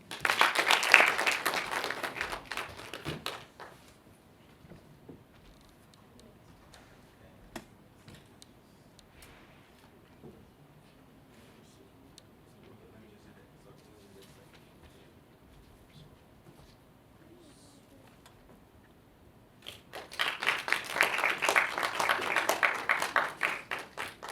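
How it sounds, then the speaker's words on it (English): Audience clapping for a child prize winner at a Talented Kidz ceremony: a loud burst of applause for a few seconds, a long quiet stretch with faint room noise, then another strong round of clapping. "please clap for him"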